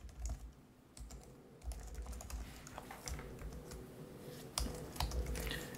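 Someone types a CSS selector name on a computer keyboard, producing quick irregular bursts of soft key clicks, close and quiet, with no talking.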